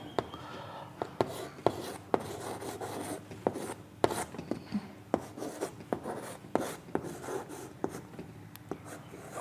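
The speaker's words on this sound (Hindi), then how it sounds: "ये अभी तो हम देवनागरी में लिख रहे हैं।" Handwriting in Devanagari script on paper makes steady, close scratching pen strokes punctuated by small taps and lifts, with a faint low room hum underneath.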